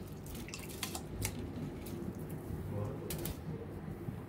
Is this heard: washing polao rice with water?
yes